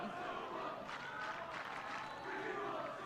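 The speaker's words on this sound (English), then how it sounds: "You can hear the crowd, can't you? It's just phenomenal." Faint, distant crowd roar from schoolboy spectators at a First XV rugby match between New Plymouth Boys' High and Palmerston North Boys' High, a continuous wash of voices without clear breaks.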